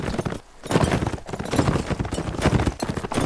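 Horse hooves in the video game Mount & Blade Warband, a fast continuous clip-clop of galloping close up with a brief dip near the start and no speech.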